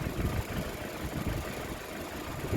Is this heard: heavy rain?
no